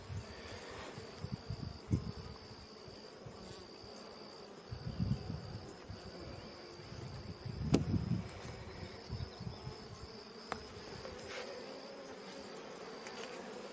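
Honey bees humming around an open hive during an inspection, a steady swarm drone with several louder swells as bees pass near, plus faint handling bumps.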